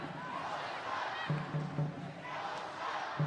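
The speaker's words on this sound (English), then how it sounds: "Exeter fans are cheering it on." Exeter Chiefs fans cheer at a women's rugby semi-final, a broad crowd roar rising and falling beneath a commentator's voice, with rhythmic chanting pulses.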